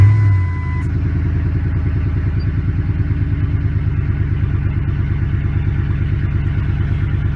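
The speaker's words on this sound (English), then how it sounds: "So we're going to go ahead and start it up now and park." A 2004-2008 Ford F-150 engine cranks and fires up, then settles into a steady, rhythmic idle with a faint ticking clatter, heard close and alone with no talking.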